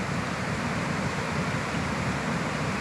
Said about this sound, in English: We think it's the top of the waterfall